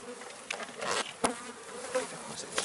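Honeybees buzz around an open hive as brood frames are moved to raise a new queen, a close, wavering drone with individual bees passing near, no talking.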